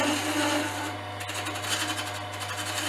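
A fountain pen blank turning smooth on a wood lathe, giving a steady rubbing hiss over the machine's constant hum, close and moderately loud, with a brief scrape near the middle and no speech.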